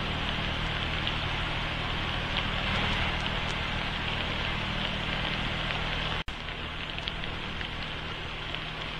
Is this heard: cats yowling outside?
no